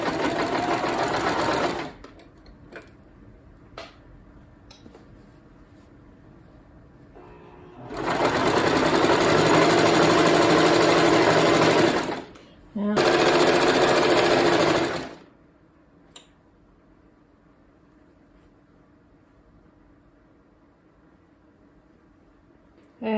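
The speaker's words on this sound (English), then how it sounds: "I'm going to stitch all the way down, stitching all the layers together" A sewing machine stitching a seam through the layers of a pillowcase, with a short buzzing burst, then a longer steady run of about five seconds and another of two seconds, separated by quiet pauses.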